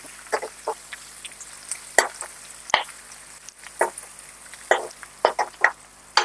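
Amaranth leaves and egg fry in a pan, giving quiet, scattered crackles and sputtering pops with occasional knocks, close by and with no talk.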